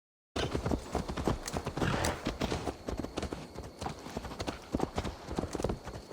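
Horse hooves clip-clopping at a steady walk in Assassin's Creed Valhalla, close and clear, a continuous rhythmic beat with a faint voice now and then.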